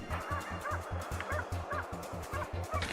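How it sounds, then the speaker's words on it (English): A hunting dog on a mountain descent barks loudly and repeatedly in a fast, steady series of sharp woofs, close by and dominating the scene with no talk. "my hunting dog suddenly started barking loudly"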